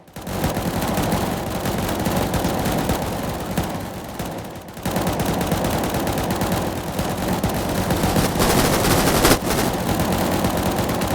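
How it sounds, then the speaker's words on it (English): Sustained video game gunfire as several players shoot at targets in a training drill, dense rapid automatic shots overlapping into a loud continuous roar with a brief break midway. "Do not stop shooting until I tell you to stop."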